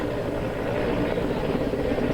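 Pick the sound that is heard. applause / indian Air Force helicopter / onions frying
indian Air Force helicopter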